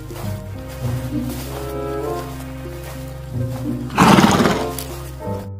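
A toy horse gives a mechanical neigh with a loud drawn-out whinny near the end, heard up close over a steady electronic hum.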